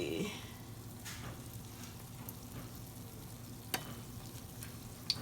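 Oreos frying in hot grease in a low pan, a faint, steady bubbling sizzle with a couple of soft pops and clicks.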